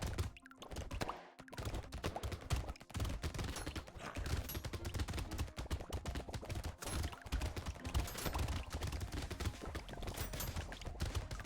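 A submachine gun firing in the video game Brotato: a dense, fast, steady patter of small shots, quiet and continuous, mixed with busy game effects.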